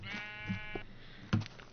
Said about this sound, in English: keep hearing the sheep moving around above me, and it makes me nervous